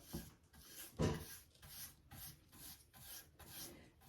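A chip brush spreads salt-wash paint across a wooden garden sign board in quick, rhythmic rasping strokes, about two per second, close and fairly quiet.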